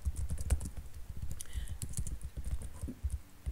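Rapid typing on a computer keyboard, irregular close-up clicks and clacks in quick bursts with brief pauses, no talking.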